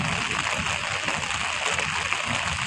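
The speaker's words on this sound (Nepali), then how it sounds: "ल पानी यस्तो परेपछि" Heavy rain falls outside in Nepal as a dense, continuous wash of patter and splashing that stays even throughout.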